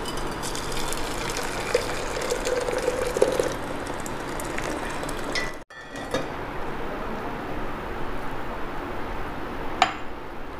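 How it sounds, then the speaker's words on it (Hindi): Herbal kadha strained from the pot and poured into glasses, a steady liquid gush and trickle, close, with a brief pause and a light glass clink near the end. "तो अभी हम गैस को बंद कर देंगे और इसको हम छान लेते हैं इसमें।"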